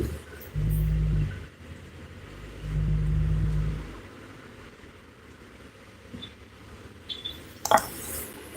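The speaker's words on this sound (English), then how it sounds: "He moving the car so I can park." A car being moved out of the way to free a parking spot, its engine giving two low rumbling bursts, then quieter idling with faint clicks and a brief sharper noise near the end.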